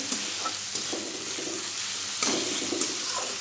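Ginger paste sizzles steadily as it is sautéed with lentils in a pan, a constant close frying hiss with occasional soft scraping from stirring.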